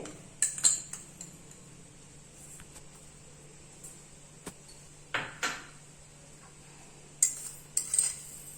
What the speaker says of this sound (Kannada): ಒಂದು 3 ಸ್ಪೂನು ಜೀರಿಗೆ ಹಾಕ್ತಾ ಇದ್ದೀನಿ ಹುರಿಯೋದಕ್ಕೆ